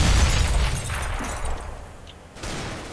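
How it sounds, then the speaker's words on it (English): A grenade blast in Counter-Strike: Global Offensive, a loud low boom at the start that fades into a rumbling tail, with a fresh burst of noise near the end. "Throwing a grenade."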